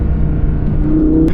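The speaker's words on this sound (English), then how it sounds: "this car is pretty loud" V10 supercar engine on a forest drive, a loud, steady low rumble from close by with a constant droning tone and no talking, holding even for just over a second.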